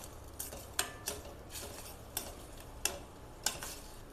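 Green chili and ginger paste sauté quietly in a pan with a faint sizzle, while a spoon scrapes and taps the pan in a loose, repeated stirring rhythm.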